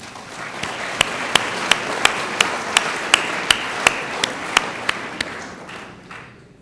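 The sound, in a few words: audience applause at city address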